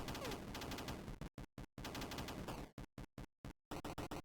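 Rapid gunfire bursts from a shooter video game, dense continuous volleys broken into short repeated shots with gaps, loud and close, then a quick rattling string at the end.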